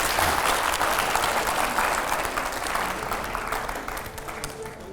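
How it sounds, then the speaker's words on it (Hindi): A studio audience at a televised talk event breaks into loud, sustained applause, a dense wash of many hands clapping that holds steady for several seconds before easing off slightly toward the end. "जोरदार तालियां हो पहले तो एकदम।"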